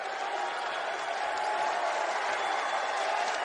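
A packed arena crowd at a Marquette vs St. Bonaventure college basketball title game roars steadily, a dense sustained wall of cheering and applause with no breaks.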